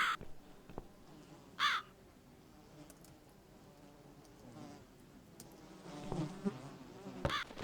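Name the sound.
crow cawing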